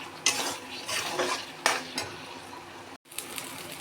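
A spoon stirs spices with salt and turmeric in a pan for a Bengali pangas fish curry, making close scraping strokes over a light sizzle, broken by a brief gap near the end.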